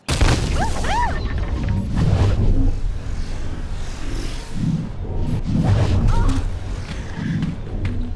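A gravity bomb detonates in the VR game Blade & Sorcery: Nomad, a loud booming whoosh with swirling rumble, followed by a second deep blast, while a voice talks over it.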